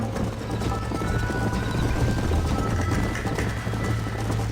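Hooves pound in a fast, continuous galloping rhythm during a horse race in the video game Red Dead Redemption, with the clip-clop close and steady against a rushing outdoor background.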